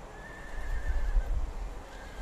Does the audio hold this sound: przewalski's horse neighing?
yes